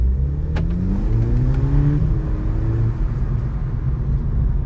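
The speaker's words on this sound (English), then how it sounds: "So I'm going to drive in sport and manual, and let's have our first acceleration." A 2019 VW Polo GTI (AW) accelerating hard in sport and manual mode, its engine note rising steadily through the revs with a brief dip at a gear change, loud and droning from inside the cabin.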